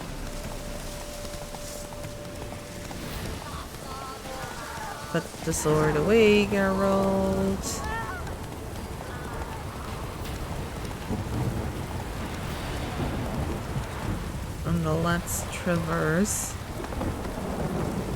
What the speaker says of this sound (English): somehow it always rains when I'm encountering this Leshen in particular